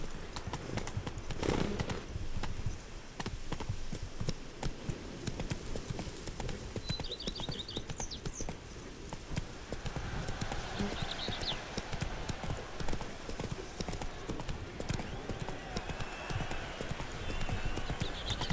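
Roach, a horse in The Witcher 3 video game, gallops with a steady, fast clip-clop of hooves running throughout, and a whinny breaks through briefly; a voice speaks faintly at times.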